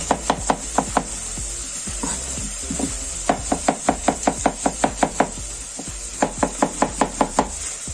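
A knife slices wild boar meat into thin pieces at a festa in Sandinha, Portugal, tapping the board in quick, even runs of crisp knocks broken by short pauses, with no talking.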